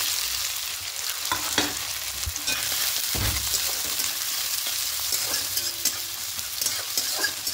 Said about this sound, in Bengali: দিয়ে পেঁয়াজটা হালকা করে একটু ভেজে দেবো